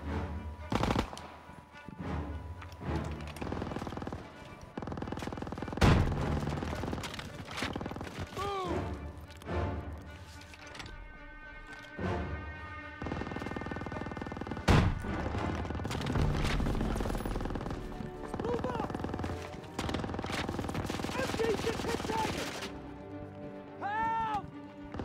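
Machine-gun fire and scattered gunshots sound through a Call of Duty WWII street battle. Loud rapid bursts repeat across the scene, with shouted soldier voices and game music mixed in.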